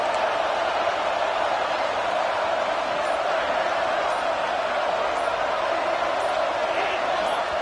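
Loud, steady roar of a packed football stadium crowd at Clemson's Death Valley on a third down, a dense wall of noise holding without a break from start to finish.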